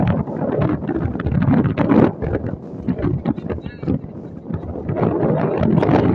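Wind gusts over a boat on the Jamuna river near the Jamuna bridge at Bhuapur, Tangail, rough fluctuating rumble against the microphone, rising and easing in bursts with no clear talk.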